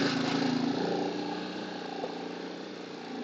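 Motorcycle engines idle at a rest stop in Minapin, Nagar, a steady close mechanical hum that is louder at first and then settles into an even drone.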